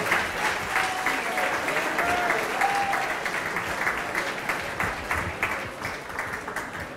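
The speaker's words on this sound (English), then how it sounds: "All right, guys, how about one more big round of applause for Larry, Wayne, and Diana" Wedding guests at a reception applauding after a toast, a full, sustained round of clapping from the room that tapers slightly toward the end, with faint crowd murmur underneath.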